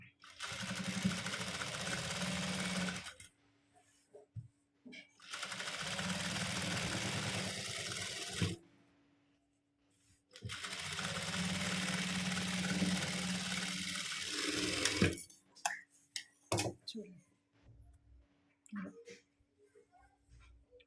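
A sewing machine stitches piping and inner seam pieces onto a garment, running in three long steady bursts of whirring motor and needle rhythm, with pauses and a few clicks and handling noises between.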